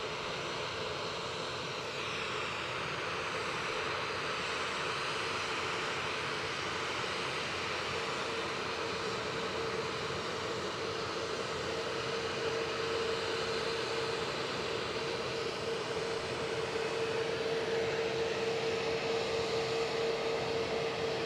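A jet airliner engine roars steadily at Edinburgh Airport during take-offs and landings, a continuous broad rumble and hiss with a sustained whining tone that swells slightly louder toward the end, no voices.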